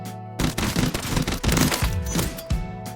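Rapid gunfire from a weapon in Warzone, a burst of sharp shots fired in quick succession with brief pauses between volleys, loud and close with no talking.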